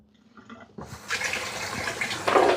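Tap water running onto a cutting board being rinsed after bleaching in a home kitchen, starting with a small clatter then a steady close splashing that swells louder at the end.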